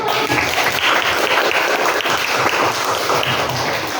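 Applause in a classroom teaching session as a group finishes its presentation, a sustained burst of clapping from a room of participants lasting the whole stretch, with no talk over it.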